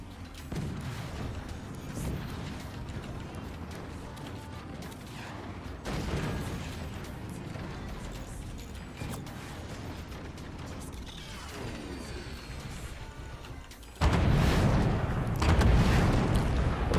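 Triple howitzer artillery fire in the strategy game Forts, heavy mechanical clanking and booming impacts in bursts, with a loud final barrage near the end, prominent and close.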